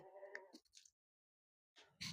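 A single short goat bleat rises briefly at an Amritsari goat farm, followed by quiet and a faint scuffle, then a sudden loud clatter at the end.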